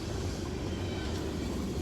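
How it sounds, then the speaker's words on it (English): Freight train of mixed rolling stock, including boxcars, a coil car and gondolas, rumbling steadily past at close range, a continuous low roar with no voices. "this train is 16R once again, but he's got, again, really nice rolling stock"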